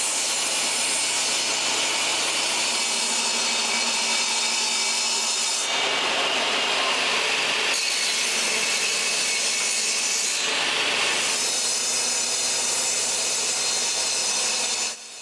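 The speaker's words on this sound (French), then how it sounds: "certaines planches sont trop longues. Il faut les couper un peu." Wooden soffit boards for a cottage are sawn to length in continuous, fairly loud rasping strokes, with a couple of brief pauses between cutting passes and no voices.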